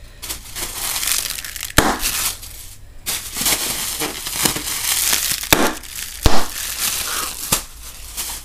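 Plastic bubble wrap is squeezed and popped at close range. A few loud, sharp single pops stand out over continuous crinkling and scattered smaller snaps, with no voices.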